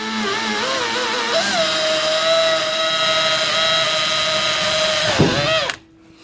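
A cordless power drill with a bit boring a pilot hole while fitting wheels to a tyre machine, its high motor whine holding steady and close for about five seconds before it dips, winds down and cuts off.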